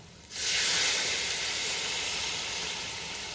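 Beef stock hits a hot pan of coriander and chilli masala for Kerala-style beef varattu, setting off a sudden, loud hiss of steam and sizzle that holds and slowly eases over a few seconds, with no talking.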